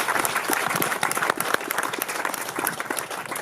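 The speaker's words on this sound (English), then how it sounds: "Please give him a round of applause." Dense, steady audience applause at a community event honoring an agriculture teacher and FFA sponsor: many hands clapping close and loud, continuous from start to finish with no pauses.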